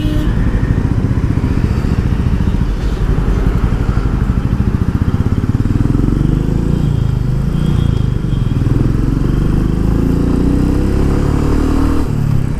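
A Royal Enfield Meteor 350 motorcycle rides on Delhi roads, its engine note loud and steady with rising revs as it accelerates, accompanied by road rumble and light mechanical clatter throughout.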